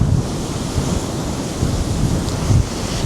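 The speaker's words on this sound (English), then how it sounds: "It's all to do with the waves." Sea waves roll and surge under strong wind on a blustery day, with a steady roar of surf and gusty wind buffeting the microphone, loud and continuous with no talking.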